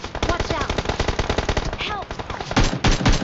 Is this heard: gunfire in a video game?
yes